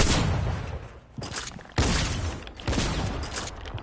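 Shotgun blasts in the video game Fortnite hit as repeated loud, booming bursts, three or four heavy shots in a row with short decaying tails and no talking.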